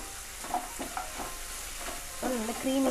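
Butter paneer masala sizzles and bubbles in a pan with cashews added, a soft steady frying hiss broken by gentle stirring scrapes, close and fairly quiet.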